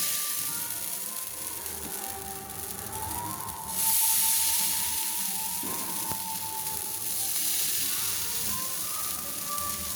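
Palm fruit batter hits a hot tawa griddle with a continuous close hiss and sizzle, which surges louder partway through as more batter is spooned on.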